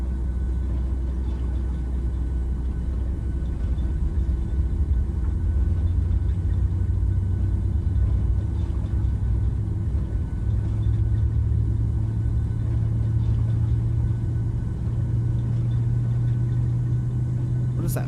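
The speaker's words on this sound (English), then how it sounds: "Sounds like we have a good start of engine number 1." A Boeing 737-800's number 1 jet engine in a flight simulator game spools up and settles into a steady low roar and hum, with a pitch rising gradually over the continuous rumble.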